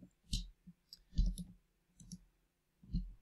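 Computer mouse buttons clicking as a web page is reloaded, a few sharp close clicks spaced irregularly with soft handling thumps between them, no talk.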